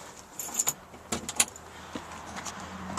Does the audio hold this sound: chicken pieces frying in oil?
no